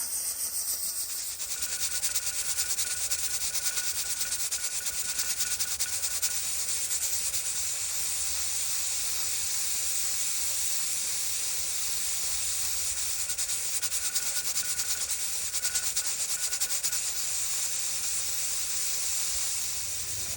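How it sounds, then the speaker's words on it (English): Steam hisses steadily from the jiggler of a pressure canner processing sunchokes and carrots on a stove burner, a continuous bright, loud rush that holds for the whole stretch with no pauses. "that jiggler should jiggle just a little bit, and then it should go down to being steam, and then it should come back up to jiggling"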